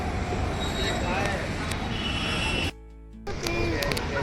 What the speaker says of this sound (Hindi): वो जा रही है मेट्रो।